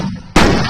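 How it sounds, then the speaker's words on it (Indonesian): A single loud firework blast bursts abruptly after a quiet lead-in and rumbles on, close and heavy, during a village takbir procession with fireworks at Kutuk in 2018. "Satu persatu muncul dan bergelora di angkasa. Inilah kembang api"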